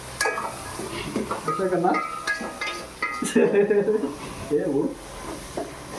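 Onions, tomatoes, chillies and ginger frying in a pot for biryani, a crackling sizzle with stirring scrapes running beneath people talking over it.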